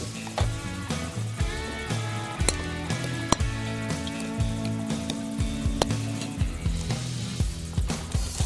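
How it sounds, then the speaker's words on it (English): Battered yellow perch deep frying in hot canola oil, a steady loud sizzle and bubbling with intermittent clinks and clatter of tools nearby, no talking. "I'm going to deep fry some perch up today"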